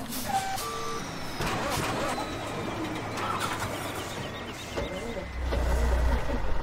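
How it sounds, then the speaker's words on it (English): A truck in the farming game Farming Simulator 17, its steady engine drone running through the whole stretch and swelling louder near the end, with birdsong and a reversing-style beep heard over it. "Let me grab my truck"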